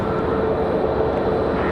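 Frontier Airlines jet at Raleigh-Durham International Airport, a steady loud engine roar with broadband rumble holding constant throughout, no pauses or talk.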